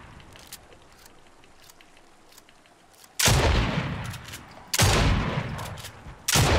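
Rapid automatic gunfire from a gun in Fortnite: after three quiet seconds, two long, loud, sustained bursts ring out close by, and a third burst begins at the very end.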